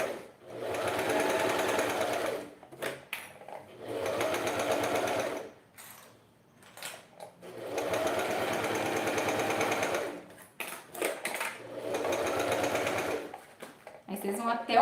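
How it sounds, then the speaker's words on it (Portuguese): A home sewing machine stitches two fabric pieces together with a narrow presser-foot seam allowance, running in four long steady bursts with brief pauses between them. "E aí a gente vai costurar agora com a margem de um pezinho de máquina."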